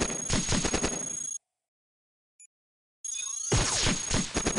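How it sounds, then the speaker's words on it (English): Enemy gunfire in the robot game Cogmind, dense rapid bursts of shots heard loud and close, breaking into silence for over a second, then resuming just as heavily. "They're shooting me through the walls."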